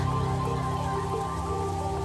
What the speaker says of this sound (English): The rain sound in the back with the keys.